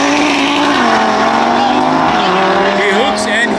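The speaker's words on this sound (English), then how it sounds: "He hooks and he's gone in the left-hand lane." A drag racing car launches down the strip at the Saldanha drags, a loud, close engine roar holding steady then sweeping upward as it pulls away, with a commentator talking over it.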